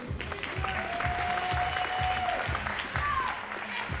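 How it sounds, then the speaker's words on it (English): Sustained applause from a bodybuilding contest crowd greets an IFBB pro at the men's overall presentation, loud and even, with a faint tone and some background murmur. "Give him a round of applause."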